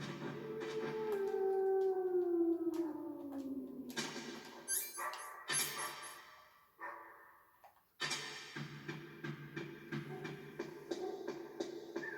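Dogs in the video game Metal Gear Solid let out a long howl, followed by a series of sharp game sound effects and choppy, clattering noises.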